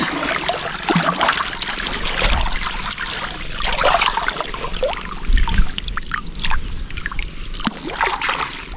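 Strong river current rushing and churning around a boat, a loud, continuous wash of flowing water with scattered splashes and trickles throughout.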